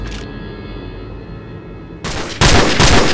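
Gunfire in the video game Call of Duty Modern Warfare, a steady ambient hum giving way to loud, dense bursts of rapid shots in the last second, close and harsh with no voices.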